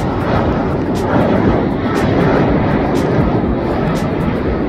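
An airplane roars as a dense, steady rumble near London's O2 Arena, loud and sustained under heavy wind buffeting.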